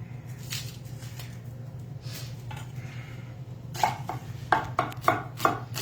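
A knife cuts through chunks of onion on a board, first a few scattered soft cuts, then a quick run of sharp, close chops near the end over a low background hum.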